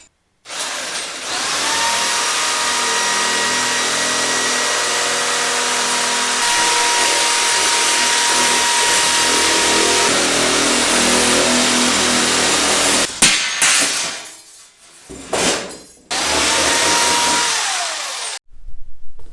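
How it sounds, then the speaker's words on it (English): A handheld electric shear, an old tool, cutting aluminum sheet for radiator ducting on an E92: a loud sustained whine with shifting pitch for about thirteen seconds, then short bursts with brief pauses between cuts. "This is a handheld electric shear."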